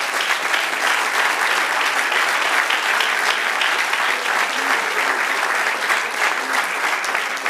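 Congregation at an evening church service breaking into sustained applause for the Lord, a steady, dense wash of many hands clapping that holds at full strength throughout without pause.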